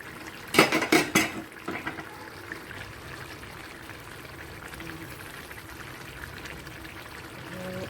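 A lid is lifted off a pan of fish and potatoes simmering in a thin curry: a few sharp metallic clanks close together near the start, then a quiet low bubbling simmer.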